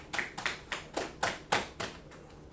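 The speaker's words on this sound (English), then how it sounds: "Possessive, clap it up for it" A class clapping together in a steady rhythmic beat, about nine sharp unison claps at a quick even pace, moderately loud in a room with no talk over them.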